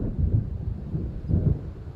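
Thunder rumbles low and steady during a coming storm in the video game Alan Wake, rolling in slow swells with no voices over it.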